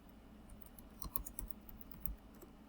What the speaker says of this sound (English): To get to global mode, I have to type in configure terminal.